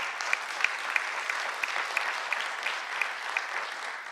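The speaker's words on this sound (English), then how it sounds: "I'd like to give them a huge round of applause." Sustained applause from an audience at a 2015 school mural project event: dense, even clapping of moderate loudness lasting the whole stretch, with no talking over it.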